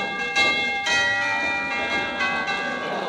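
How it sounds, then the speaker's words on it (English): A bell chimes and rings out with a sustained, resonant metallic tone, struck a couple of times and lingering, moderately loud and close. "I'll ring the doorbell."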